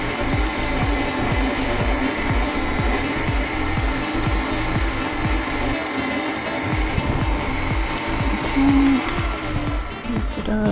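An electric kitchen mixer churning ingredients, a steady loud motor whir with a rhythmic beating pulse from the beaters, running continuously throughout.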